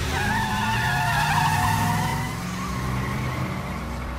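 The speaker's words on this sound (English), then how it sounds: "There's a car out here." A car's tires squeal and skid loudly as it pulls away, a sustained screech with engine rumble underneath that fades slightly toward the end, no voices.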